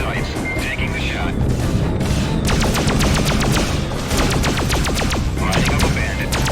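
Rapid bursts of spaceship weapons fire in the space-combat game Freelancer, close and loud. Volleys of sharp repeated shots run through most of the stretch over a dense bed of engine and battle noise.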